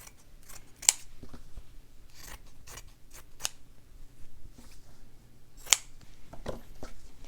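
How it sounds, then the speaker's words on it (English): Scissors cutting fabric for a Christmas slow-stitching book, heard as a series of crisp, close snips in small clusters with quiet pauses between, fairly soft overall. "then I'll just cut this fabric."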